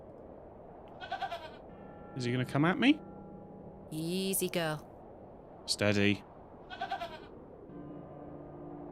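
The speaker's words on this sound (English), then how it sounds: "There's a goat. What a wild-looking thing." A wild-looking goat in The Excavation of Hobbs Barrow, a creepy English village game, gives a few short nasal bleats in separate bursts, mixed with someone talking calmly.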